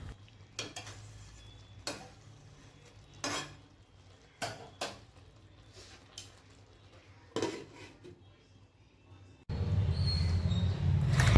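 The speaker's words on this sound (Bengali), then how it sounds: "উচ্ছেটা দিয়ে ভালোভাবে একটু নাড়িয়ে চাড়িয়ে তারপর কিছুক্ষণ ঢাকা দিয়ে রেখে দেবো" Bitter gourd is stirred in a cooking pan for sukto, with a series of sharp, spaced utensil scrapes and clinks against the pan, followed near the end by a louder, steady sizzle.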